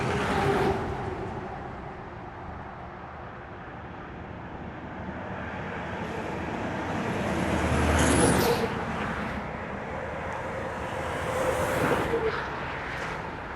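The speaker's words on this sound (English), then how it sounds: "Decent amount of traffic on 395 as always" Steady highway traffic on I-395 passing beneath an overpass in Norwich, Connecticut, a continuous roar of tires and engines with louder swells as heavier vehicles go by, heard from just above the roadway.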